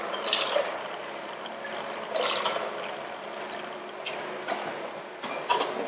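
Clarified sherry cocktail mix poured in small measured amounts at a Barcelona bar, a few short liquid splashes and trickles spaced apart against soft background room noise, close and gentle.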